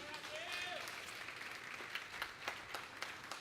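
Church congregation clapping builds under a noisy room after a theatre performance, with some crisp individual claps near the end; a brief tonal sound rises early on.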